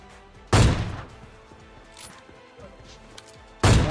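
Two loud sniper rifle shots in a video game, each a sharp blast with a ringing tail, spaced about three seconds apart, with faint background game sounds between them.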